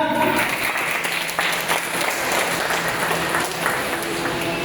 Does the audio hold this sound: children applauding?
yes